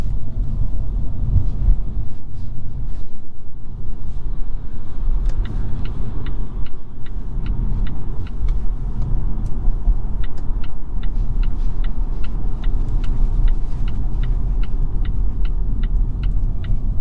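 Inside a 2022 Volvo S60 T8 Recharge Inscription plug-in hybrid with a four-cylinder engine, driving along with a steady low cabin rumble and road noise, while a soft electric whir and a run of quiet, regular ticks sit on top.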